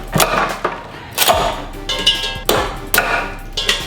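Legs are twisted and snapped off a lobster in a series of sharp cracking and crunching shell breaks, about eight of them at uneven intervals, close and fairly loud with no talking.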